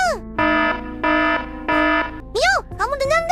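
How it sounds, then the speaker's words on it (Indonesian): A cartoon CCTV alarm rings in loud, evenly spaced electronic tones, three sustained blasts in a row, followed by animated voices talking. "Alarm CCTV kita bunyi."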